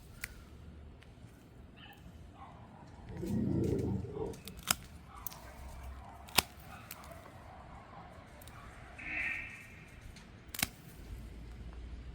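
Pruning shears snip through thin stems of an Iconic shrub rose, giving a few sharp, isolated clicks spread apart over a quiet outdoor background.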